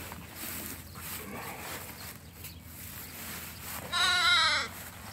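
Ewe and lamb on a sheep farm bleating over a faint background, with one loud, wavering, nearby bleat lasting about half a second near the end, under quiet ambient noise.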